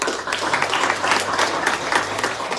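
Temple festival audience gives a round of applause, a dense, even patter of many hands clapping at moderate loudness for the whole short stretch.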